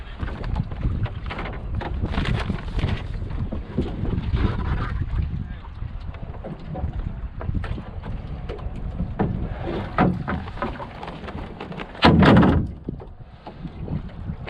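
Wind buffeting a sailboat out on the water, a continuous rough rumble on the microphone with gusty swells and a brief knock near the end, no talk.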